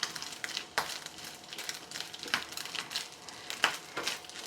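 Grated coconut roasts in a pan until golden brown, giving a soft, steady sizzle with occasional scraping stirs of a spoon against the pan.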